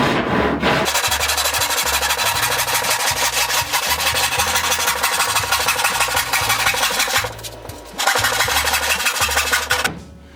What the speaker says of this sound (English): Another nice thing about a handsaw, you can get right straight up into a square corner.